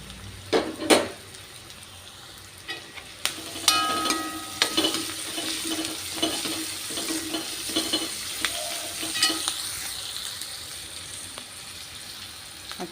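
Four slit green chillies sizzle and fry in hot oil in a pan, a steady crackle with scattered stirring scrapes and light utensil clinks, close and alone with no talk.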